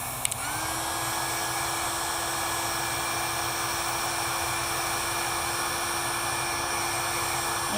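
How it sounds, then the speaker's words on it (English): A handheld drying tool blows steadily and close over a wet watercolor painting of a birthday cake, a continuous loud whirring hum with a high whine that starts with a click and runs unchanged throughout. "So I'm going to take my drying tool again."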